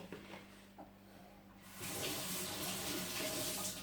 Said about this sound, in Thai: เดี๋ยวไปล้างล้างแล้วมาใส่